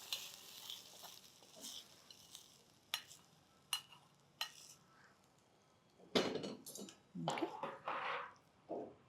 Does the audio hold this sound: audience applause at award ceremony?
no